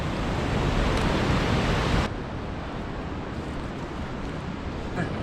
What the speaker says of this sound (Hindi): इस तरफ से वो झील का पानी आ रहा है और इस तरफ से चश्मे का पानी, और पानी की रफ्तार देखें कितनी ज़्यादा है।